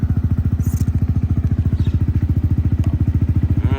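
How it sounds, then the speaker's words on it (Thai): A 2019 Yamaha YZF-R15 motorcycle idles close by, its engine and exhaust giving a loud, steady stream of rapid, even thumps that continue without a break and with no talk. "มาฟังเสียงเครื่องยนต์น้องกับดีกว่า เสียงท่อ"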